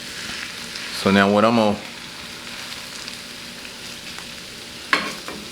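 Hash browns frying in a hot skillet with a little oil, a steady broadband sizzle running throughout, briefly interrupted by someone speaking near the start and a sharp clink or stir near the end.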